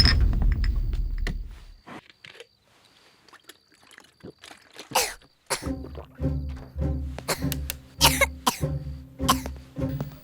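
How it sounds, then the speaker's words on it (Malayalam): A burst of coughing up close at the start, followed by quiet, then several sharp knocks and clattering thumps in an uneven rhythm. "എന്താ മോനെ എന്താ ചുമക്കുന്നത് പനിയുണ്ടോ"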